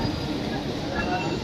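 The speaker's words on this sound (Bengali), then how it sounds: "আমাদের এনজিপি ট্রেনটা ছেড়েই দিল" An NJP-bound passenger train pulls away, giving a steady, close rolling rumble of rail cars with a faint hiss on top, and voices mixed in.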